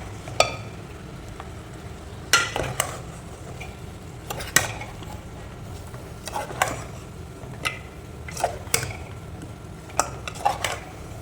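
A spoon clinks and scrapes against a pan while boiled mutton is mixed, with irregular sharp knocks over a soft background sizzle, close and fairly quiet.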